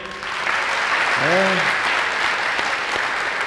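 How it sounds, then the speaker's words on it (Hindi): A church congregation at a Hindi-language Christian service applauds loudly and steadily throughout, with a brief sung or voiced tone rising over the clapping near the middle. "जोरदार ताली बजाएं।"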